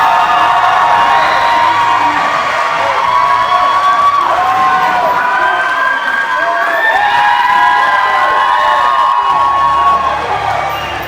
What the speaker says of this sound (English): the crowd is deafening in the Dragon's Den Arena